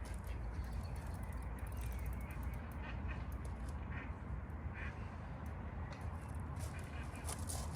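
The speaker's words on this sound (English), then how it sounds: "Oh, go away, ducks, no." Ducks quacking outdoors during a fishing session, faint repeated calls against a steady rumble of wind and water.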